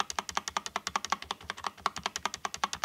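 Shift key on a Royal Kludge RK84 wireless 75% mechanical keyboard tapped repeatedly and quickly, producing a close, even string of about two dozen sharp plastic clicks with no voice over them.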